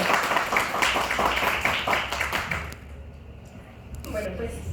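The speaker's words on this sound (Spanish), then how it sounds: "les damos un gran aplauso a nuestros profesores" Audience applause for professors at the close of a Spanish-language conference session, a dense wash of many hands clapping for almost three seconds before fading out, with scattered claps and murmuring voices afterward.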